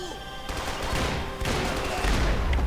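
Dense gunfire from the video game Max Payne 3, a rapid burst of overlapping shots and impacts over about three seconds, loud and close, with heavier thumps near the end.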